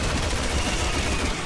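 Rapid gunfire in the video game Resident Evil 6 rattles on without pause, loud and dense, like sustained automatic fire.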